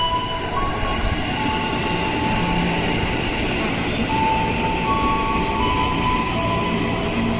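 A KRL commuter train pulls into Angke station, a steady rumble of rolling wagons with brief wheel squeals and clicking over the rails, heard fairly close and continuous with no talking.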